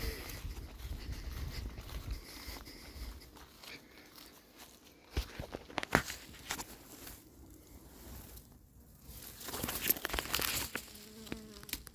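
Honeybees hum inside a hive after a swarm has been hived from a cardboard box, a steady buzzing close by with crinkling and handling noises over it.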